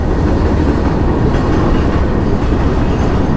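A train rolls along a railway track near a reservoir, its wheels beating a loud, close, rhythmic clickety-clack over the rails with a dense rumble and no voices.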